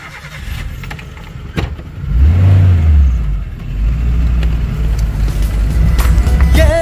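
A vehicle drives along a newly built road, its engine rising in a surge and then holding a steady, fairly loud hum throughout.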